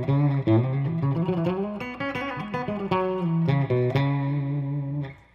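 A clean electric guitar plays bluesy single-note licks, with bends and slides phrased in quick runs and held notes. The playing is clear and moderately quiet, with no voices over it.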